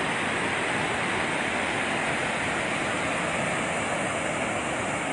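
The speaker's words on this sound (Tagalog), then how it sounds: "ang bilis ng labas ng tubig" Water rushing out of the Magat Dam spillway, a loud, dense, unbroken roar of fast-flowing water, steady throughout with no voices.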